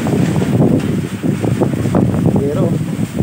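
Strong wind blowing at night, a steady loud rushing and buffeting close to the microphone throughout, with people talking over it.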